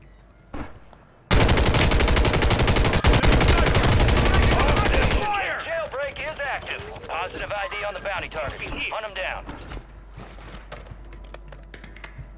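Loud sniper gunfire in a video game comes as a dense burst of shots lasting several seconds, followed by quieter in-game effects, with people talking over it.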